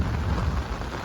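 Heavy rain pours down over a flooded farm field in a dense, steady roar with no voices.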